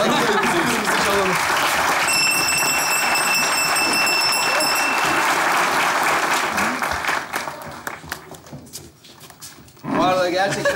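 A studio audience at a Turkish comedy sketch show applauds loudly and densely for about seven seconds, a bell-like tone ringing through the middle, before the clapping thins out and a voice comes in at the end.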